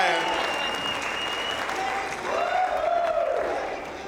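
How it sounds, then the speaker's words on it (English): Dense audience applause at a comedy festival fills the whole stretch, with a voice calling out over the clapping crowd. "nice round of applause for Kevin O'Brien, everybody"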